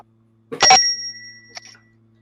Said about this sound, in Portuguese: Toca lá o sininho. Toca o sininho devagar para o Peter Pan não ficar com ciúmes.